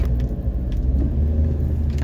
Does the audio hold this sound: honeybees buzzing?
no